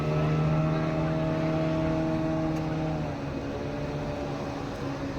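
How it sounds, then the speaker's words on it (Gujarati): Boat engines hum with a steady low, tonal drone at Nagoa Beach, constant and fairly loud, without voices. "ઘણી બધી બોટો આવેલી છે જો"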